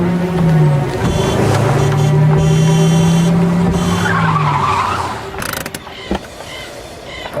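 A car brakes to a stop with a loud, sustained tire squeal that slides in pitch, then gives way to quieter mechanical creaks and clunks as the vehicle settles.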